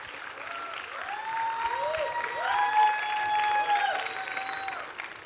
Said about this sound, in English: And can we keep clapping for them as they go?